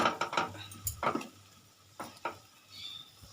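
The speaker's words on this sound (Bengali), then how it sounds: "আদা রসুন পেঁয়াজ টমেটো কাঁচা লঙ্কা সিদ্ধ হয়ে গেছে এই যে নেড়ে দেখাচ্ছি" A spoon stirs a cooked masala of ginger, garlic, onion, tomato and green chili in a pan for bhetki fish curry. Close, irregular scraping and clinking strokes sit over a faint low hum.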